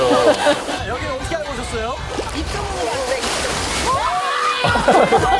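Sea waves slosh and splash over people at an island beach on a summer day, a continuous watery wash with bursts of spray, while voices chatter and shout throughout.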